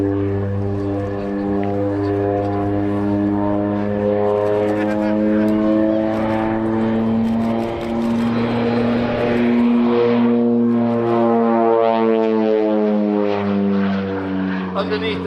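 A North American OV-10 Bronco, a former West German Luftwaffe target tug, flies at the Old Buckenham Airshow, its engines giving a loud, continuous harmonic drone whose pitch shifts slightly as it passes.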